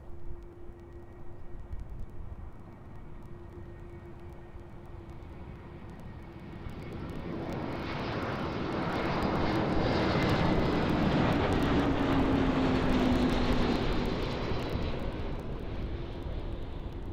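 A passenger airliner arriving from Barcelona lands on runway 06 at Amsterdam airport, its engine roar swelling from a distant hum to a loud, broad rush that holds steady as it passes close, with no talk.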